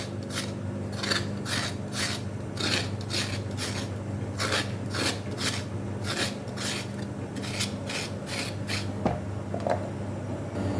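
A knife scrapes the ridged skin of a ridge gourd in quick, steady strokes, about two per second, each a short raspy rub, close and moderately loud with no talking.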